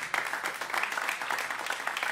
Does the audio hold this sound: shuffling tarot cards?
no